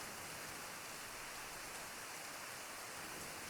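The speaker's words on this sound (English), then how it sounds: "Because now this is just normal rain." Steady rain falls in the Kingdoms Of The Dump video game, a dense, even hiss with no talk over it.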